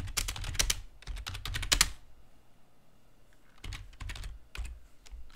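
Fast keystrokes clatter on a computer keyboard for about two seconds, then quiet, then a few more scattered key presses near the end.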